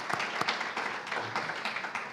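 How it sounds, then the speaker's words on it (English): Applause at a conference talk on carbon offsets, a modest audience clapping with scattered individual claps, fairly quiet and uneven. "He deserves a round of applause before he talks"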